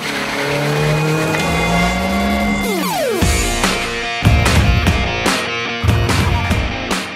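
A car manoeuvres while reversing into a home garage, engine revving with tonal whine and sharp tire squeals, then a series of loud abrupt bursts and scrubbing noises, close and without talk.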